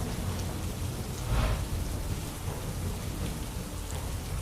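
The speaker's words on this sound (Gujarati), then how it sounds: "મૂળી તાલુકાના આસપાસના ગ્રામ્ય વિસ્તારોમાં વરસાદી છાંટા પડ્યા" Steady rain hisses down close by in rural Gujarat, India, a dense continuous patter with a faint low rumble underneath and no voices.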